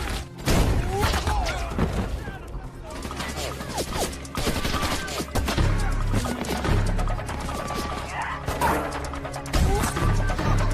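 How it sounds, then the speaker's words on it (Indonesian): Shootout gunfire in a film battle between soldiers and red beret troops of the Congolese army, with dense rapid bursts of shots, crashes and impacts over a thumping score, a voice narrating over it. "Miller membantu Brandon menembak habis pasukan baret merah tentara Kongo beserta tentara lain yang sedang menyerang Brandon."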